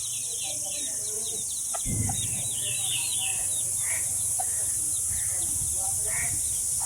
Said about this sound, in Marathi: कोंबडी पिल्लांना घेऊन जाते